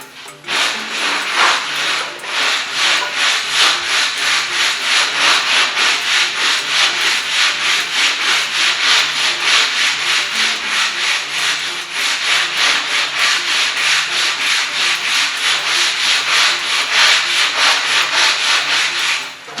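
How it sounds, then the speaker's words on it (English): Sandpaper on a contour block rubs steadily back and forth along a car body line in a body shop, a loud, continuous rhythmic scraping with fast even strokes and no speech. "It's going to let you sand that body line back in there, and it'll follow that contour real nice."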